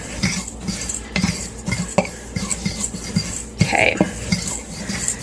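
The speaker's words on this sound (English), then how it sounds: "So we're going to stir that up." Spoon scrapes and clinks against a bowl while seasonings are stirred together for a homemade gluten-free coating mix, a quick irregular rhythm of close metallic taps; someone says a single word briefly.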